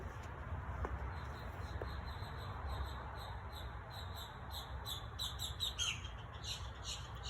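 Faint high bird chirps repeat intermittently over a steady low background hum, distant and soft.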